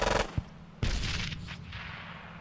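Gunfire from infantry squads in the Squad Battles Dien Bien Phu war game: a short burst of rapid shots, a single crack, then a heavier blast whose rumble trails off, loud and close with no talk.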